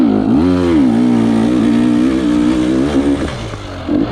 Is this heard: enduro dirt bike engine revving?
yes